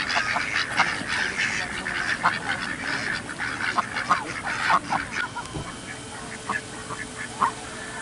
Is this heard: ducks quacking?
yes